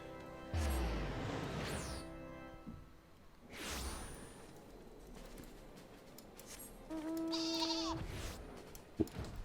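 A few short sheep bleats in Final Fantasy XIV sound out with gaps between them, followed by a brief electronic tone, over a quiet background with no speech.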